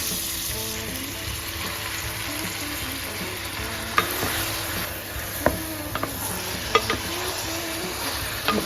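Beef cubes sizzle and fry in hot oil in a pot with garlic and onion, a steady close crackle broken by a few sharp scraping stir knocks.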